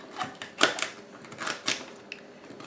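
A knife dices celery stalks on a cutting board in a home kitchen, giving a handful of sharp, close chops in uneven bursts.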